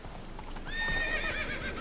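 Roach, Geralt's horse in The Witcher 3, clip-clops and lets out a loud whinnying neigh in the second half, harmonic squeals rising over steady hoof noise.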